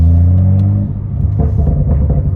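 A BMW N55 engine's deep exhaust rumbles steadily at idle, then swells briefly as the engine is blipped, close and fairly loud.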